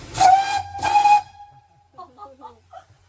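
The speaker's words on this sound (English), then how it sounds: "Blow the whistle?" A loud steam locomotive whistle blows twice in long bursts on the Severn Valley heritage railway, heard from the footplate, harmonics clear and strong, followed by faint distant voices.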